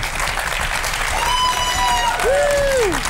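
A German Big Brother talk-show studio audience applauds a guest's entrance, a steady dense wash of clapping with a rising-and-falling whistled tone and a brief greeting voice over it.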